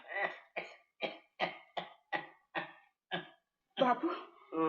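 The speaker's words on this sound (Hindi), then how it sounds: "बापू, तुम्हारी खांसी तो बहुत जोर पकड़ गई है" An elderly man coughs heavily and repeatedly, with eight harsh, evenly spaced bursts up close, then a rougher, wheezing fit at the end.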